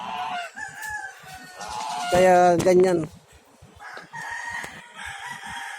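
A rooster crows once at close range in a farmyard, the call rising and holding for about a second, while someone talks before and after it.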